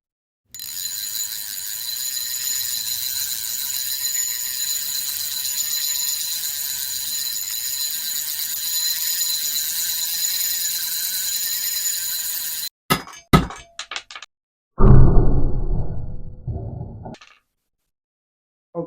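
Berkley Trilene 17-pound fluorocarbon fishing line is pulled under a steady, loud mechanical whine until it snaps with a few sharp cracks, followed by a brief burst of rattling and clatter.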